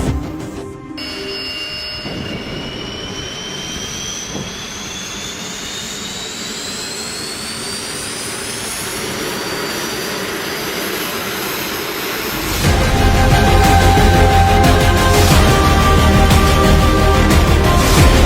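The jet engine of a Baykar Kizilelma unmanned fighter jet runs up on the ground, a loud, rising whine climbing steadily in pitch, then jumping into a heavier, louder roar that holds steady near the end.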